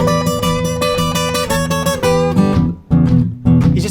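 Electric guitar plays a train whistle riff from a song, with ringing chord shapes struck in a steady rhythm, close and loud, ending in a few choppy accented hits.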